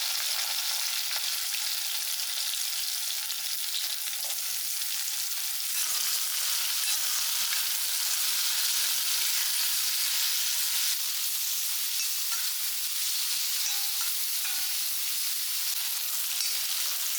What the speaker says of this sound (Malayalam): ഇനിയിപ്പോൾ നമുക്ക് ചട്ടി വെച്ച് അതിൽ വെളിച്ചെണ്ണ വാർന്ന് അത് ചൂടായ ശേഷം ഇനി വഴറ്റിയെടുക്കാം